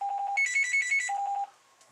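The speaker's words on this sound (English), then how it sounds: "The phone's ringing." A telephone rings with a rapid electronic trill in short repeating bursts that shift pitch midway, then cuts off, leaving near silence.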